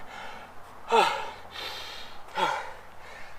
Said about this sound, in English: Catch my breath.